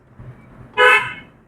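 A car horn gives one short, loud toot from nearby during a driving lesson, set against a quiet idling background with no speech.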